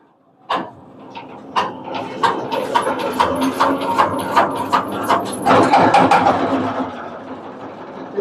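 A trawler boat's engine cranked and started, beginning with sharp knocks that build into a rapid chugging, clattering run, close and fairly loud.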